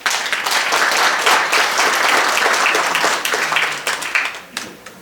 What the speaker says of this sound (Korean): 여러분 최경숙 아나운서께 큰 박수 한번 보내주시기 바랍니다.